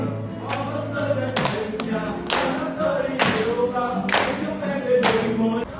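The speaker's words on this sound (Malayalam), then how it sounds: "കൈയടിക്കടാ." In Ho Chi Minh City, someone gives about five single hand claps spaced roughly a second apart, sharp and close against a low background murmur.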